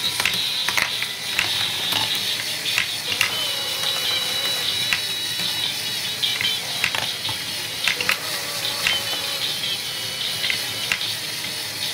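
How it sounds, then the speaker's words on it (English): Spinning wheel mechanism of an Arduino-built pinball game, giving a steady mechanical whirr with rapid ratcheting clicks and gear-like ticking throughout, close and continuous with no talk. "And the wheel starts to spin, but let's say it gets stuck like this."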